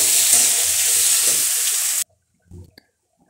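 Chopped tomatoes with onion and garlic sauté in a pan for banana blossom chutney, a loud sizzle that cuts off abruptly after two seconds, followed by brief soft clatters and near silence.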